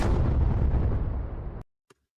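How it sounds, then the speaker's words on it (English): A single big explosion sound effect bursts at the start and rumbles with heavy low-end roar for about a second and a half before cutting off abruptly, followed by a faint brief knock in the silence. "I'm gonna give Grayo an explosion as well because he deserves an explosion."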